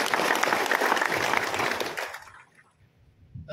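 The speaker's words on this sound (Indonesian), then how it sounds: "Kita beri aplaus untuk ini." An audience at a government pre-service training certificate ceremony in Papua gives a burst of applause, dense and steady for about two seconds before quickly dying away into near silence.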